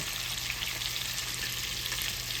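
Breaded shrimp fry in oil heated to about 375 degrees, giving a steady, dense, close crackling sizzle that runs unbroken and alone throughout.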